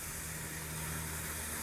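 Water sprays steadily from a hose onto the soil around a rose plant, a continuous close hiss with no pauses.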